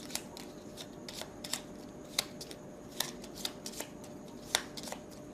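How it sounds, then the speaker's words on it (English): Game cards shuffled by hand, light papery riffles and sharp snaps spaced irregularly across several seconds, close and fairly quiet. "I might join them together and shuffle them"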